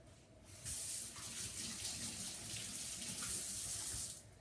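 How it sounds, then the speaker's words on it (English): Hands are washed under a running kitchen tap, a steady splashing rush of water close by that starts abruptly, flows evenly for several seconds and then stops, with no talking. "let me wash my hand now"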